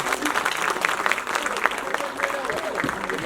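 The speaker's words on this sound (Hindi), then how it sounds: "जोरदार तालियां विनोद जी के लिए" An audience at a Lata Mangeshkar birthday tribute show claps in a sustained, dense round of applause, steady and fairly close, with some crowd noise mixed in.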